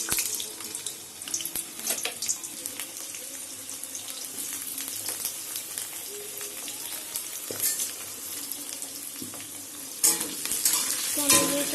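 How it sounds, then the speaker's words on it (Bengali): Potatoes go into hot white oil and sizzle and crackle steadily, with stirring clatter and occasional sharp knocks from the pan. "এবারে আমি এর মধ্যে আলুগুলো ছেড়ে দেবো।"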